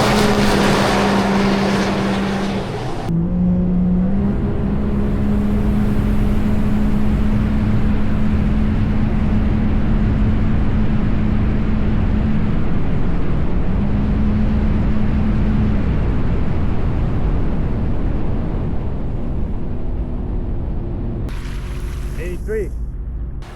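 A 2024 Sea-Doo RXP-X 325 personal watercraft with bolt-on mods roars past at speed, loud and close. A steady engine drone and water rush hold almost the whole stretch, then cut off sharply near the end.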